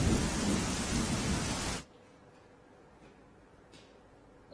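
Heavy rain with thunder pours in a dense, steady roar with low rumbling, then stops abruptly into near silence.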